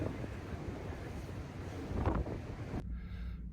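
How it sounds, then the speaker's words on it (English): Steady, fairly faint wind buffets the microphone on the open top deck at the bow of a cruise ship near Hubbard Glacier in Alaska, a continuous rushing that cuts off near the end. "It's a little bit windy"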